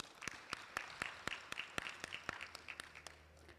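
Audience applause at a university student council inauguration ceremony: sharp, irregular claps spaced across the clip over a steady low murmur of a hall crowd, fairly faint and somewhat distant.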